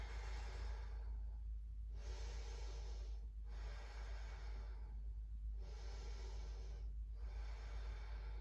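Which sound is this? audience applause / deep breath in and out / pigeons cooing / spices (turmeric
deep breath in and out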